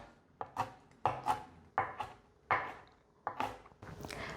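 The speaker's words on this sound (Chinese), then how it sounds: "把黑木耳切成条状，把黑木耳切碎。" A knife chops black wood ear fungus on a board in a series of crisp, close cuts, some single and some doubled, with short quiet gaps between strokes.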